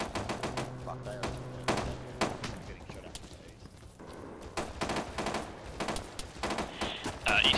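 Rapid automatic gunfire and scattered single shots in an ArmA 3 co-op firefight near a barn and trees, loud dense bursts crackling throughout with several players talking over the shooting.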